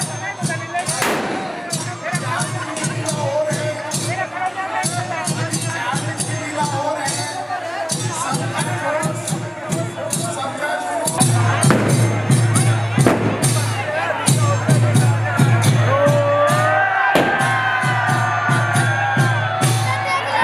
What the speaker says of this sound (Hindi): ये देखिए आप, अथाह भीड़